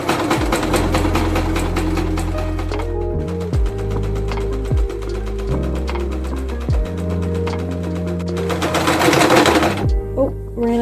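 A sewing machine stitches a sweater in loud, close bursts of rapid mechanical chatter, pausing several times between runs before a final fast stretch.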